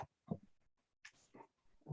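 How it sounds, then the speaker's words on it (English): A dog whimpers and snuffles close by in a quiet room, giving short breathy whines and grunts in separate bursts with brief silences between them. "Sorry about the dog."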